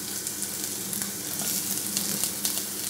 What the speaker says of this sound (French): Donc là, on a mis au départ voilà, on entend ça chante